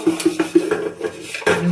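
Dishes and pots being washed by hand outdoors on a cold night, with repeated clinks and clatters of metal utensils knocking together in an irregular rhythm, close and fairly loud.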